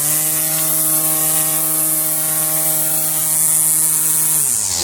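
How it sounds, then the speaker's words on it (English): A Black & Decker electric string trimmer powered from a portable power station runs close and loud as a steady motor whine, holding an even pitch before winding down near the end. "So this is a Black & Decker string trimmer."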